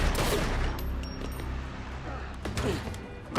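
Gunfire from the TV series Person of Interest, a burst of several shots crackling over a low rumbling background, with people talking and reacting over it.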